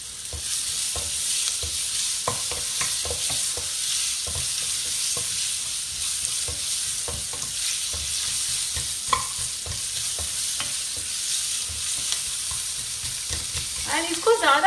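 Sliced onion fries in a pan with a steady close sizzle, punctuated by repeated scraping stirs, with no voices over it.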